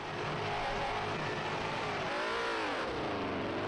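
A Lancia D50 racing car on the grid at Dundrod revs up at the start, with dense engine noise and rising and falling rev sweeps, sustained and fairly loud without voices.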